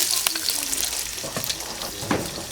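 Amish bacon frying in a pan outdoors in the morning, a continuous close crackling sizzle with scattered pops and brief scrapes.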